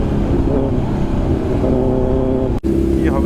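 A Kawasaki Z900 motorcycle with an aftermarket exhaust rides along a narrow road, its engine a loud, steady, close drone that dips for a brief moment near the end.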